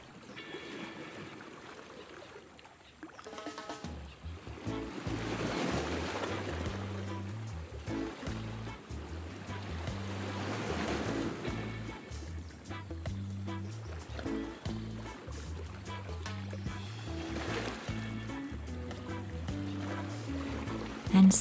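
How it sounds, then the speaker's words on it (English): Soft ocean waves wash in slow swells beneath a gentle, low musical drone, calm and unhurried. "you drift off to sleep with the sound of the waves."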